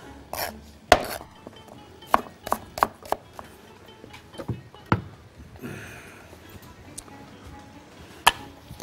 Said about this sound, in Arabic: نقطع السبرينج اونيون